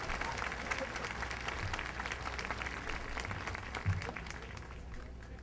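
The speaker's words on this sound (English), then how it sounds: "Let's give them a big round of applause." A crowd claps in steady, sustained applause, moderately distant, with a few louder claps standing out.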